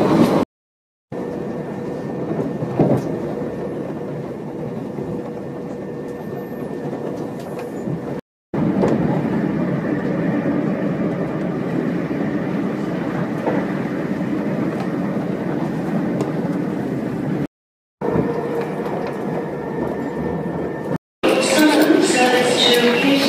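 Steady rumble and rattle inside a passenger train on a Victoria to Brighton service, a continuous moderately loud cabin drone, broken by a few short cuts, with a voice talking over parts of the ride.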